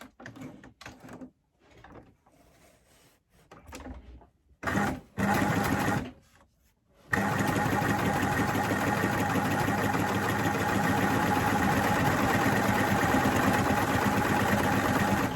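A coverstitch machine sewing a triple cover stitch on a plaid Rory satchel bag starts with a few short stop-start bursts, then runs in one steady, close, even hum to the end.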